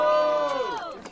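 An audience at a Brazilian freestyle rap battle final at Batalha do Coliseu roars and cheers for MC MT, a loud, dense crowd burst over a shouting voice, lasting about a second.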